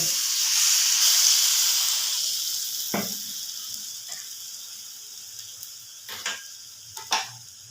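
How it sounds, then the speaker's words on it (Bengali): A slice of bread dipped in beaten egg sizzles steadily in a frying pan over low heat, a bright continuous crackle that slowly fades, broken by a few sharp clicks and taps near the end. "এবার আমি এটা করার মধ্যে মানে ফ্রাইং প্যানে ছেড়ে দেব"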